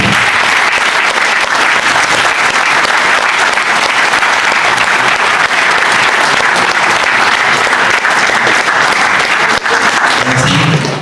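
Sustained, loud applause from an audience at an autocross club's annual general meeting, filling the space evenly with no pauses for over ten seconds.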